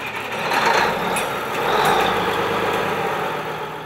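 An oversized Allis Chalmers 4W-305 tractor from around 1983 or 1984 runs its engine in a steady rumbling idle with slight swells in loudness, heard close at a display with no talking.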